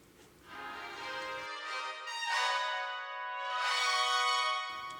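Trumpets treated with plate reverb, sustained bright brass chords blooming into a long shimmering tail, moderately loud and alone without voices.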